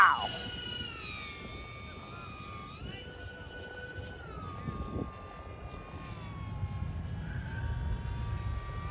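A modded FT Spear model airplane flies past, its wing making a steady, drone-like whine that shifts pitch slowly as it passes at a moderate distance, with outdoor background noise and a brief sound at the start.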